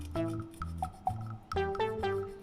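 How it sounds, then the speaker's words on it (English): A knife scrapes the hard scales off a horse mackerel in short, close, rasping strokes, several gentle scrapes in quick succession. "Slide the knife and scrape the scale gently."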